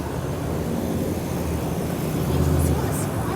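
Two 2013 Carrier Comfort air conditioner units run outside a bank in Germantown, Maryland, giving a steady loud fan roar with a low compressor hum, while people talk nearby.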